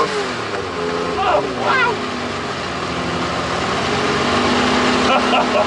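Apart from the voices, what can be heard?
MG Metro 6R4 rally car engine revving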